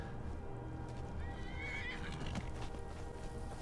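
A wild horse whinnying in Skyrim, one faint, high, wavering neigh lasting about half a second amid steady outdoor game ambience and soft hoof sounds.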